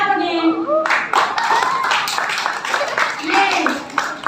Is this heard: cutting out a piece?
no